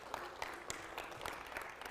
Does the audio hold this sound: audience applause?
yes